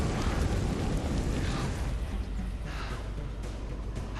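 The Explosion of Darkness spell from the Skyforge online game, cast by a Warlock/Witch character: a dense, rumbling eruption-like roar that fills the scene steadily for several seconds, then thins slightly, heard alone with no voices.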